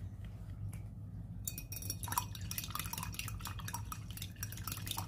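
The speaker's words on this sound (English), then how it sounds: "Just use this to add like a little bit of water to it." Water being added and stirred into acrylic paint, small wet clinks and drips of a brush or tool working the mix, close and quiet, with no talking.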